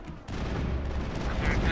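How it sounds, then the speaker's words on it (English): Defensive turrets open fire in a Mass Effect battle, laying down a dense, continuous burst of rapid shots that starts abruptly and keeps going under other game noise. "the turrets are firing"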